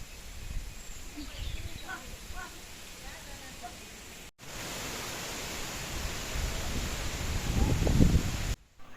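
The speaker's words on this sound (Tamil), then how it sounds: "நல்லா காற்றடிக்குது" Steady broadband whooshing of strong wind gusting outdoors, with rustling and a few faint bird chirps, growing louder toward the end.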